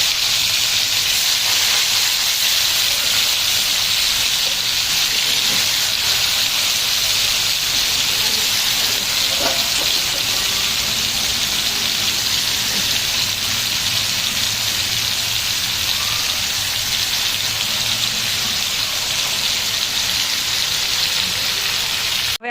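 Chicken leg pieces half-frying in hot oil give a steady, loud, dense sizzle and hiss that runs unbroken and alone throughout.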